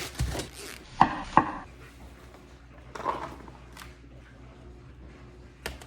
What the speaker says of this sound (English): we're going to chop up all of the vegetables